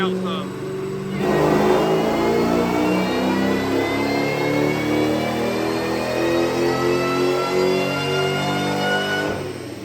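A supercharged Saleen car runs on a dyno, its engine climbing in one long, loud, rising rev with supercharger whine before easing off near the end, while people talk faintly.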